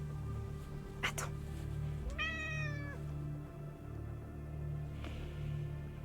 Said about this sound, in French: C'était l'intervention du chat.